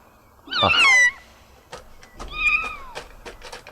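A cat gives two clear, close meows, the first loud and drawn-out and the second softer, with light clicks and knocks in between.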